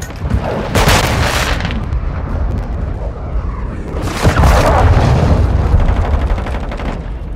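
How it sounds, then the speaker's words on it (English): Heavy booms and crackling blasts from a cruise missile strike in Call of Duty: Modern Warfare II ground war, with two loud bursts of explosion and gunfire over a constant battlefield roar. "Cruise missile approaching target."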